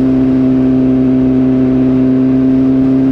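A BMW S1000RR sport motorcycle engine gives off a loud, steady, humming drone with a constant pitch throughout, close and unbroken, with no speech.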